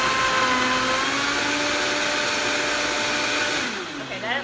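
A Vitamix blender whirs through a green smoothie, a loud steady motor drone close by whose pitch sags slightly near the end as the load changes.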